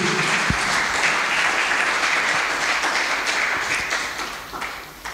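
A church congregation applauds and cheers for Jesus, dense sustained clapping from many hands filling the room, slowly thinning toward the end.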